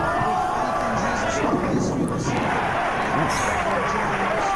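Crowd noise from spectators at the 1995 Rochester Open bowling title match, a steady dense roar and chatter throughout with bursts of louder cheering, heard alone without clear speech.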